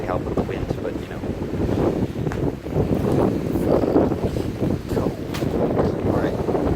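Steady wind gusts and buffets the microphone inside a flooded shelter at Oak Point, a loud, continuous roar that never lets up, with a person speaking faintly beneath it.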